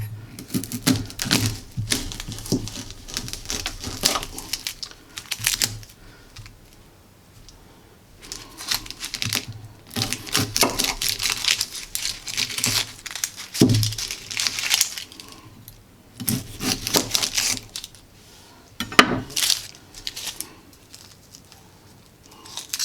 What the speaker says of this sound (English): Cut the ends off of a couple stalks of celery.